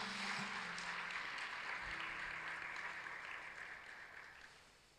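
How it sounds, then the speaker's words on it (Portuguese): Quiet, distant applause from a church congregation for Jesus, a soft wash of many hands that slowly fades out, with a brief low thump partway through. "Você pode aplaudir o Senhor Jesus?"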